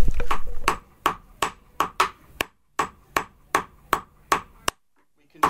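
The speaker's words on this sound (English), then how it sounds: "I'll bring that out and take it to the anvil." A blacksmith hammers hot metal on an anvil, about a dozen sharp ringing strikes in a steady rhythm with short pauses between groups, close and loud, with no talk over them.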